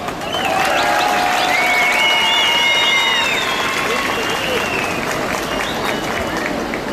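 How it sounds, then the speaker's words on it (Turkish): A crowd at a rally in Bağcılar applauds veterans, with steady clapping and cheering all through, while a loud voice calls out over the noise. "Gazilerimize tekrar bir alkış istiyorum Bağcılar"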